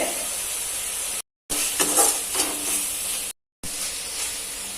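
Onions sauté for a prawn gravy, a bright steady sizzle with scraping stirs, broken by two brief silent gaps.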